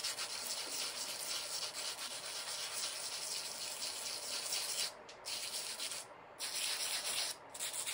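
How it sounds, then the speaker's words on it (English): Sandpaper rubbing by hand against the sides of a cured concrete bonsai pot's feet, a steady close abrasive hiss with brief pauses between strokes. "So I'll also sand the sides of the feet at this point, just to ease the edges on them."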